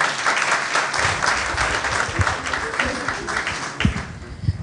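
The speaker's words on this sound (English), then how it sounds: "After her will be Martina clap for her." Faculty audience at a university content-creation masterclass claps for the next presenter, a dense, steady round of applause filling the room throughout, with a few louder low thumps near the end.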